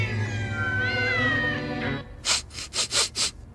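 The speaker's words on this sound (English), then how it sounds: "Does anyone else hear cats?" In a cartoon, a cat lets out a long wavering meow, followed by a quick series of four or five short, breathy hissing bursts, loud and close.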